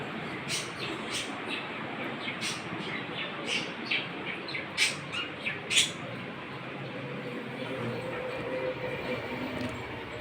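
Pet birds in the morning let out a handful of sharp squawks and chirps in quick succession over a steady, faint background hiss, with the calls clustered near the middle.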